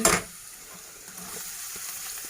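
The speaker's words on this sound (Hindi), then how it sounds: "अब हम इसको मिक्स करेंगे और ये लाइट फ्राई करेंगे।" Carrots and cabbage are stir-fried over a medium flame in a pan for veg fried rice, with a sharp burst of sizzle at the start settling into a soft, steady frying hiss and faint scraping stirs.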